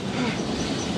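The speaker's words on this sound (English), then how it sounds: "Listen, there's another train coming." Train rumbling along the rails, a dense, loud, continuous roar with faint clattering of wagon wheels and no voices.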